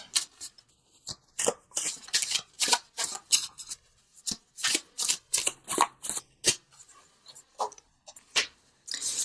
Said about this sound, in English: let's pull a visionary card from Noah Nafu, just for some added guidance